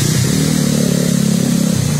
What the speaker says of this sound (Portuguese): Tá aqui minha moto.